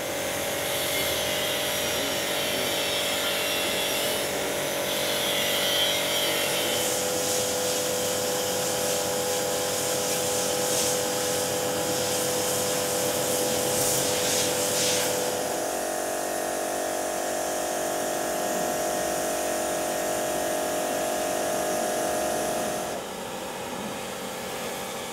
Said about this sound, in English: pressure washer can be a multipurpose equipment which saves time of day-to-day work